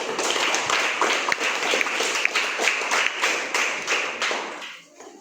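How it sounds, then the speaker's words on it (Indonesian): Applause for a student at an open graduation-results ceremony at SD Inpres Kolikapa, a steady crowd of hands clapping densely for about five seconds before tapering off near the end. "Aplaus untuk dia dulu."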